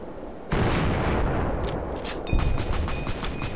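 Gunshot in Fallout: New Vegas: a sudden loud blast opens into a sustained roar of noise, with a second heavy report hitting near the end, followed by a few sharp ringing clicks.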